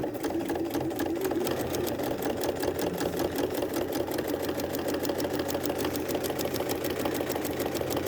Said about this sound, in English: I'm going to sew all the way through and stop.